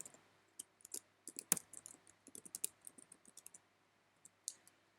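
Fingers type an email address on a computer keyboard in a quick run of light, close plastic key clicks with uneven gaps and no talking.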